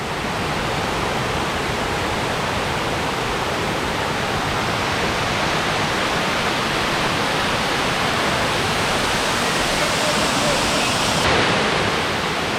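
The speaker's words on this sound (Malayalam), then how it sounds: "ഇതാ കണ്ടോ വെള്ളം ചാടുന്നേ ഭയങ്കര ഭീകരമായൊരു വെള്ളച്ചാട്ടം" A waterfall at Kakkadampoyil, Kerala, roars steadily and loudly, a dense wall of rushing water with no pauses from start to finish.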